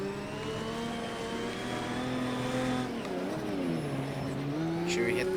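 A Lamborghini engine in a video game races on a dirt track, roaring steadily and loud throughout, its pitch sliding down and back up as gears shift and the car brakes into a turn and accelerates out.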